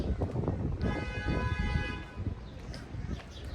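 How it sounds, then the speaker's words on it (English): A car horn on a town street in Dunedin, Florida sounds as a single sustained honk of a little over a second, heard over street noise and wind rumble. "While someone is honking"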